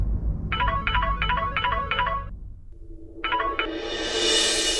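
A telephone rings in a repeated electronic trill, five quick bursts, a pause, then another ring that gives way to a rising hiss of noise.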